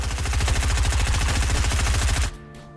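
Rapid automatic assault rifle fire in Fortnite, a loud, steady stream of evenly spaced shots lasting about two seconds before stopping abruptly.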